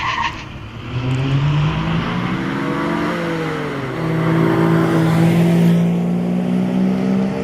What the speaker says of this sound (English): Doris is a Daimler Conquest